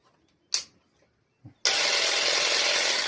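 Cordless hedge and grass shears start up after a couple of soft clicks and handling knocks, then run with a steady, even buzzing whir that holds at constant loudness to the end.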